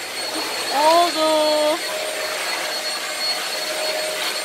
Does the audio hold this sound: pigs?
no